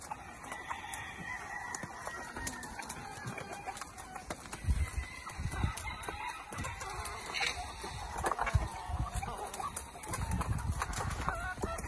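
Chickens at a poultry vendor's market stall cluck and squawk continuously, with many birds overlapping nearby amid busy background clatter and noise.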